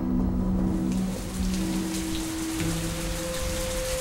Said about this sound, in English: And here the rain comes early.